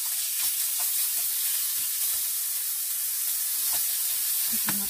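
Ground chicken sizzles steadily in a pan over medium heat, a continuous broadband frying hiss with faint crackles and light stirring, close and unbroken for the whole stretch with no talking.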